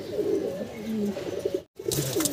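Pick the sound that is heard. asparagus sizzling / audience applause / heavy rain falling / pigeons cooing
pigeons cooing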